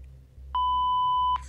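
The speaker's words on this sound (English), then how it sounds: "Obscenities were covered by another beep." A single steady electronic censor beep from the video game Tiny Bunny, loud and clean, lasting just under a second over a low background hum, with no talking.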